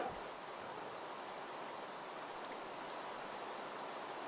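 A waterfall in a Minecraft recreation of the Tomb Raider 3 jungle level rushes as a steady, broadband roar of falling water, constant and fairly loud throughout with no talk.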